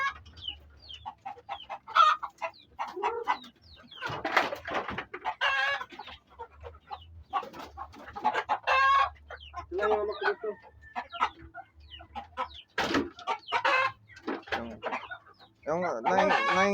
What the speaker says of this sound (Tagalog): Mayroon siyang manok na maliit, papakainin niya ngayon.